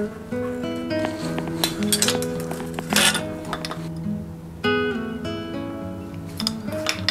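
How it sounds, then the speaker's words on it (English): A wrench dropped during the rebuild of a rust-flecked 1983 Trek 850 mountain bike clinks and clatters against metal parts in a burst of bright metallic rattles, with a second sharp clatter following, close and fairly loud. "Oh, dropped a wrench."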